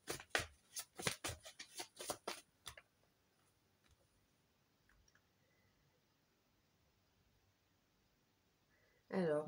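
Tarot cards shuffled and drawn for a Scorpio reading, a quick run of close crisp riffling flicks at the start, then near silence, then another brief burst of card handling at the end.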